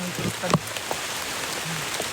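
Rain falls outdoors on a hillside hike, a steady wash of hiss under scattered voices and brief knocks.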